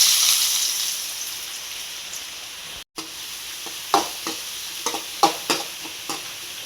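Small-cut onions frying in a pan of homemade ghee and oil, a steady close sizzle with sharp bursts of stirring and spatula scrapes in the later half; no talking.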